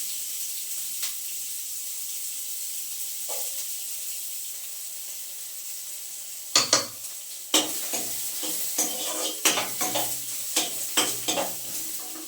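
Chopped onions hit hot oil in a pan and sizzle loudly in a home kitchen, with a steady hiss broken by repeated sharp scraping bursts from stirring, no talking.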